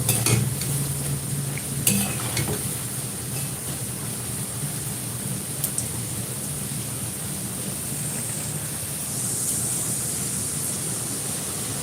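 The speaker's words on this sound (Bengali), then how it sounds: "দু পাশটা যাতে ভালো করে ভাজা হয়ে যায়" Onion fritters (peyaji) frying in oil on a rainy monsoon day, a steady close sizzle and bubbling running throughout with a few clatters from stirring, no voices.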